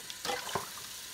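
Tap water runs briefly into a kitchen sink while dishes are rinsed, a short soft splashing burst that is faint and close, with no voices.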